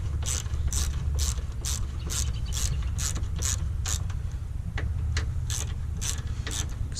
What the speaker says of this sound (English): we're going to take our 8mm ratchet